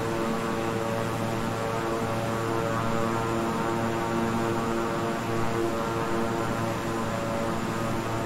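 A King Air 350i twin-engine turboprop in Microsoft Flight Simulator gives a steady, droning engine hum with layered tonal whine that holds even throughout, heard alone with no talk.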